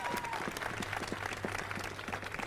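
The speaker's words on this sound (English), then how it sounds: "can we give those 5 recipients a huge round of applause?" Audience at a downtown Denver event applauds award recipients, a sustained round of many hands clapping, moderately loud and fairly close with distinct individual claps, steady throughout with no talk over it.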